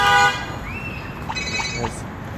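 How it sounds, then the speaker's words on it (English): Car horns honking at a park, a couple of short toots followed by a series of quick beeps, heard amid open outdoor background noise. "People are honking a lot."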